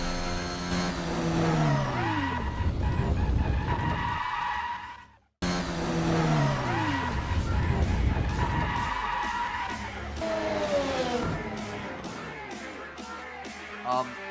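Race car in a sim racing game spinning out during a league race, with tire skidding and engine revving swinging up and down, a brief cut in the middle, then the engine climbing again through rapid gear changes.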